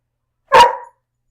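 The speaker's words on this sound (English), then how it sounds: "Excuse my dog." A dog gives a single sharp bark, close and fairly loud, short and alone against silence.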